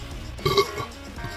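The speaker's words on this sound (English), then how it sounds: "Oh, I got a burp." A single short burp rises out of quiet room noise after eating a hot wiener during a food challenge, fairly close and moderately loud.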